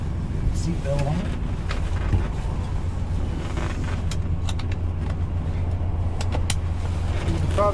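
Inside the cab of a 1966 Ford F100 pickup while driving, a steady low engine and road rumble continues with wind noise and faint rattles, and someone talks over it.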